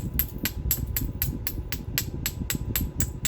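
A piece of recycled jadeite glass struck while being trimmed into an Elko-type point during flintknapping, the edge lip knocked off; about a dozen sharp, evenly spaced taps ring out close by in quick rhythm, with no talk.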